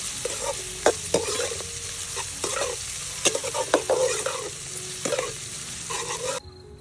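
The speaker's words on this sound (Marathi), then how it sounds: "आता आपल्याला कांदा थोडासा परतून घ्यायचा आहे" Finely chopped onions sauté in a pan over a wood-fired stove, a steady close sizzle with repeated clattering stirs of a spoon scraping the pan, no talking.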